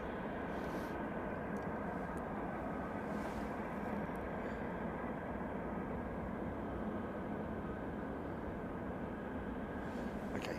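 An Air China Boeing 747-400 with Pratt & Whitney engines roars steadily at Anchorage airport, a loud, unbroken broadband jet rumble with no break throughout.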